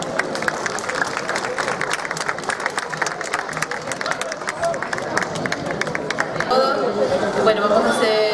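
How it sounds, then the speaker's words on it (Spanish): Audience applause and crowd chatter at a children's music festival for San Juan Day in Puntallana, a steady wash of clapping mixed with murmuring voices that swells slightly near the end. "fuerte y caluroso aplauso"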